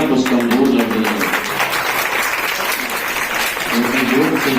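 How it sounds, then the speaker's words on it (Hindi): Loud, dense audience applause at an education conference and award ceremony, sustained throughout, with a voice and some tonal sound audible under the clapping at the start and end. "हमारी तालियां कुछ कमजोर लग रही है"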